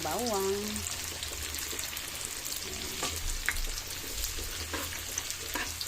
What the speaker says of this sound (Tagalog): Igigisa na natin guys ang bawang.